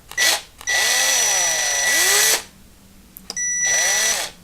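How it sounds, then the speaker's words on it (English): A Milwaukee battery-powered cordless drill whirs up close in three loud bursts, a short blip, then a long run with shifting whine, a pause, and another sustained spin. "Some people really don't like drilling sounds though."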